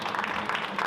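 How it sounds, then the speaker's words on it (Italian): A brief burst of crowd applause at a motorcycle and helmet giveaway, dense, steady clapping, fairly close and loud and not broken by talk. "Applauso ragazzi."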